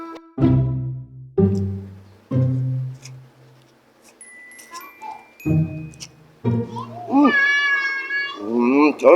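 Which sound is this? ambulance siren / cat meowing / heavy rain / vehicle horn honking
cat meowing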